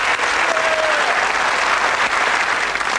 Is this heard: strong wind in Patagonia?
no